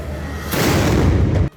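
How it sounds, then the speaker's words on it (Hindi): Ceremonial muzzle-loaded cannon fired in a gun salute at night, a single loud deep boom that swells and rumbles for about a second before cutting off. "इसके बाद एक मशाल नुमा चीज से इन्हें जलाया गया और फिर इनमें जोरदार धमाका हुआ।"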